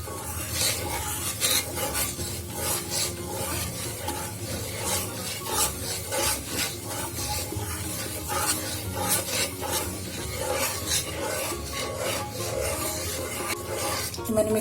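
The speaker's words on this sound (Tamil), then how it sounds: "சுகர் கூட மில்க் சேர்த்துட்டு இந்த மாதிரி மிக்ஸ் பண்ணிட்டே இருங்க" A milk and sugar mixture is stirred steadily in a pan for a quick snack, giving a continuous close rasping scrape with rhythmic rubbing strokes throughout and no talking.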